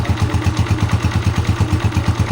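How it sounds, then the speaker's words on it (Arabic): A Haojue Egyptian 150cc motorcycle engine idles with its exhaust blocked, a close, steady low throb pulsing in an even rapid rhythm with light mechanical clatter and no voices. "سامعين الصوت بتاع الموتور؟"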